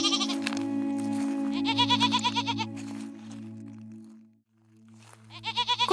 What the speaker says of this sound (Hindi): कुछ समय बाद वो जंगल पहुंचा और अपनी बकरियों को घास चरने के लिए छोड़ दिया।